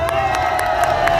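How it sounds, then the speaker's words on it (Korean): A crowd at an election campaign rally applauds and cheers loudly, with steady clapping and excited shouts rising together. "유상영 다시 한 번 더 큰 박수 부탁드립니다"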